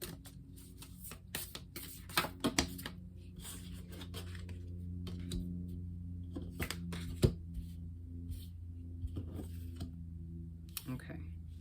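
A tarot card deck is shuffled in quick, crisp bursts of riffling, slapping card sounds with short pauses between them, heard close up over a low steady background hum.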